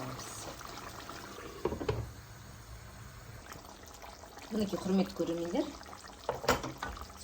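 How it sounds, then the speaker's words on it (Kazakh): Water poured into a pot of meat and carrots simmering for Tashkent-style shah plov, a few short splashing bursts in a kitchen, with someone speaking over parts of it. "суымызды құйып тағы да"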